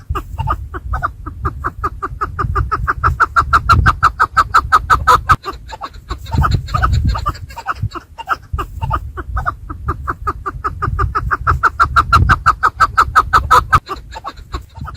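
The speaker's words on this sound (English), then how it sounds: "A small sound device plays natural Chukar calls." Chukar partridge calls played from a small sound device at a bird trap setup, a long run of rapid, rhythmic chuck-chuck notes repeating in steady loud bursts with brief pauses, close and clear with no talk.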